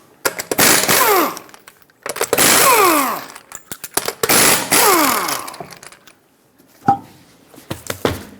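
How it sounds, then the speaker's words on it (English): An impact wrench with a 19mm socket spins lug nuts off a GMC Terrain wheel in three loud, whining bursts of roughly a second each, followed by the clink of a loosened nut and small handling clatter. "With a 19mm socket, remove all 5 of your lug nuts and then remove the wheel."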